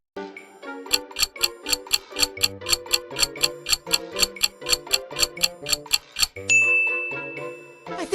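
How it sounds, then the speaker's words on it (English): Retro Alien vs. Predator video game sound effect: a rapid run of bright, evenly spaced metallic dings like a ticking chime, about twenty strikes in steady rhythm, ending in a sustained tonal swell, clear and alone. "it's the sound from the classic hit game Alien vs. Predator"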